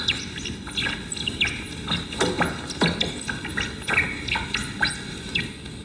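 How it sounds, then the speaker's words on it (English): Laboratory rats' ultrasonic laughter chirps, pitched down into human hearing range, come as a run of quick, close, sweeping chirps in irregular bursts over a steady background hiss. "They do this ultrasonic chirping at 50 kilohertz."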